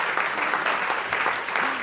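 An audience at the Kalkofen venue in Emmental, Switzerland claps loudly and continuously, a thick, even wash of hand claps with no voices over it.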